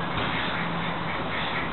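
Ducks quack at a park duck pond, their calls mixed into a steady, dense outdoor background that runs the whole time, fairly loud and continuous.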